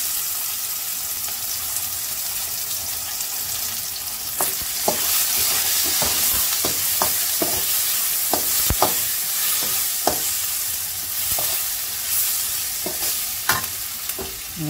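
Crushed garlic dropped into hot oil in a pan for a dried anchovy curry, a steady close sizzle and frying hiss with scattered clicks and stirring taps throughout.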